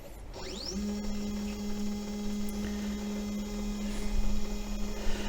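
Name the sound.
Sainsmart 4040 Pro CNC machine homing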